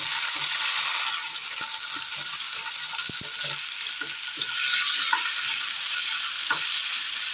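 Chopped tomato dropped into hot oil in a pan on the stove, hissing with a steady bright sizzle and occasional stirring scrapes and pops, close and continuous.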